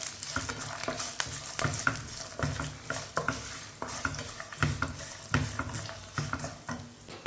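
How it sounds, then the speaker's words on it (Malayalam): Broken dried red chillies fry in oil for lemon rice, a close sizzle punctuated by repeated rhythmic scrapes and taps of a spoon stirring against the pan. "നമ്മുടെ വറ്റൽമുളകുണ്ടല്ലോ അതൊന്ന് പൊട്ടിച്ചിട്ട് കൊടുക്കുന്നുണ്ട് കേട്ടോ"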